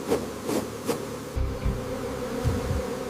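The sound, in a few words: honey bees leaving a smoked hive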